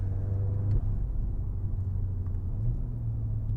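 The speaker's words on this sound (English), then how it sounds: "Gears, again, obviously, Dsg Gearbox, so quick, smooth, just instant gear changes." Audi S3 Sportback with a DSG gearbox driving, a steady low engine drone with a brief dip near the start like a quick gear change, then continuing smoothly under road rumble.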